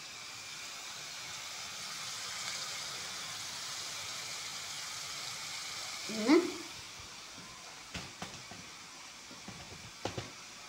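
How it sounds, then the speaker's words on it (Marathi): Potatoes frying in a pan for sabudana khichdi, a steady soft sizzle and hiss throughout, with a brief utensil clink partway and a few light knocks near the end. "बटाटे मस्त झाले तळले आहेत."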